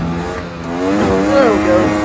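A pickup truck's engine revs hard as it launches and accelerates, its pitch climbing quickly, loud and close.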